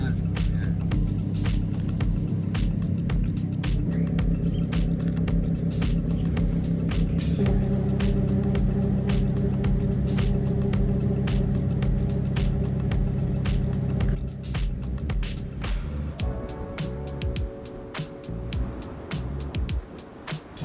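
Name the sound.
car engine running as it parks on road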